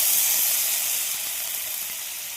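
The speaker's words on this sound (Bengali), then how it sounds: "জিরে ফোড়ন দিয়ে দিলাম" Cumin seeds sizzle in hot oil in a steady, bright hiss that stays close and even, fading only slightly over a couple of seconds, with no talking.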